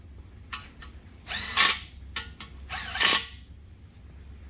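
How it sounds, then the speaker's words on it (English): Ratchet wrench torquing ARP bolts on a 360 Dodge engine from a Little Red Express, heard as close metallic clicking bursts in short runs with pauses between strokes, and no talking. "First torque on these bolts is 35 pounds."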